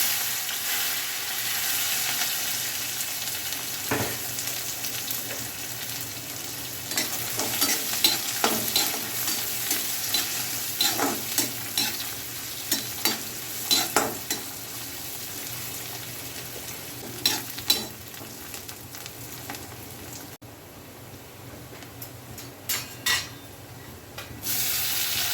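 Onions sizzle in hot oil with garlic and dried chilies while being stirred for a Chhattisgarhi bhaji, a steady frying hiss broken by scraping spoon strokes and occasional clinks against the pan.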